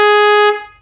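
A three-trumpet telolet horn gives a single loud, sustained blast of about half a second, then cuts off and rings down quickly.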